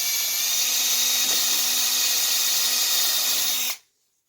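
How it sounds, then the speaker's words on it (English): A power drill bores a pilot hole into a 2x4 wood stud for a screw holding electrical conduit on a greenhouse frame, a loud steady whine close to the mic that cuts off abruptly near the end. "just pre-drilling a hole slightly undersized from the screw."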